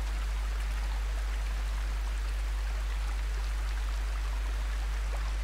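Stream water flowing in the video game Sengoku Dynasty, a constant soft rushing and trickling with an unbroken low hum beneath it.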